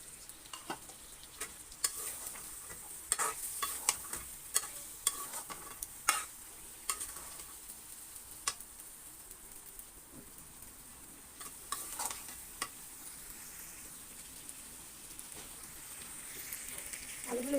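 Beef bhuna being stirred and sautéed with fried potatoes in a pan, a soft background sizzle broken by repeated scraping and clacking strokes of a spoon against the pan, fairly quiet and steady throughout with no talking.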